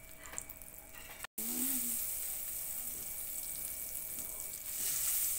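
Garlic and long chili peppers frying in butter in a pan, a soft continuous sizzle heard close up at low volume, with no talking.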